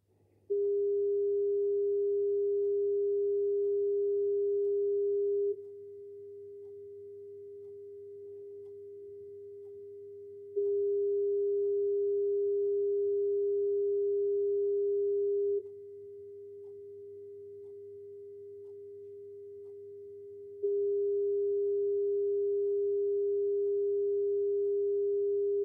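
A steady pure in-phase speaker test tone plays throughout, swelling louder and softer in alternating stretches of about five seconds.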